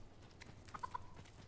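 Chickens cluck softly in the video game Dragon's Dogma 2, a few short clucks at a distance over a faint ambient background, with no voices.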